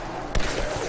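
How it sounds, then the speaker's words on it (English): Distant gunfire in the Tomb Raider (2013) video game: a single muffled broadband crack sits over a steady low background rumble, fairly faint and far off, with no voices. "Distant gunfire. That's probably not good."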